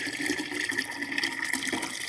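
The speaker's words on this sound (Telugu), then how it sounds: "ఇప్పుడు మనం ట్యాప్ని చూద్దాం" Water running from a tap on a rooftop vegetable garden, a steady moderate hiss and splash that continues unbroken throughout, with no voices.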